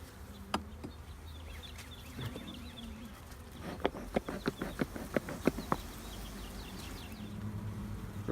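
Honey bees in a beehive super drone in a low, steady buzz close to the microphone. A run of sharp clicks and taps from handling the hive frames cuts through the buzz.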